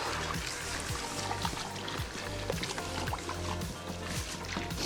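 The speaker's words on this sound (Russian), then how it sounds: "И заливаем холодной водой. Холодной водичкой заливаем." A steady rush of cold water pouring over meat into a metal cauldron outdoors over a campfire, with low splashing and sloshing throughout, fairly close and continuous.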